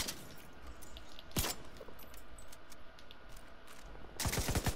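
Gunfire in The Division 2: a sharp single shot early on, then a rapid close burst of automatic fire at the end, over low background noise with no talk.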